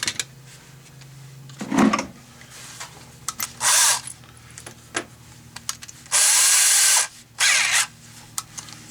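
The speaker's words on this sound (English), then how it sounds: "first we're going to try the old reverse drill bit trick." A reverse-spiral drill bit grinds into a stuck bolt on a Craftsman series 675 engine, coming in several loud, separate bursts of whining drilling with clicks, clunks and tool handling in the pauses.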